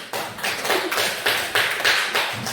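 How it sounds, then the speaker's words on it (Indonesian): A classroom of students claps for a student group that has just presented, with irregular bursts of hand claps rising and falling in several waves, close and fairly loud. "Tepuk tangan dulu untuk kelompok 1."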